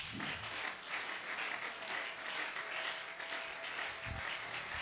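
A church congregation applauding the Lord during a worship conference, steady dense clapping and cheering filling the whole stretch at an even level, with no pauses.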